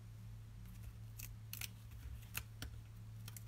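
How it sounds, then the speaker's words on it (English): Scissors snip pieces off during a paper stamping craft session, several crisp close cuts in an irregular sequence over a steady low hum, quiet and without talk. "I'll snip a few of those off again and stick them down"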